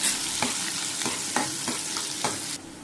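Onions with fennel seeds and cinnamon sauté in hot oil for a mutton gravy, a steady close sizzle broken by regular stirring scrapes roughly every third of a second, with no talking.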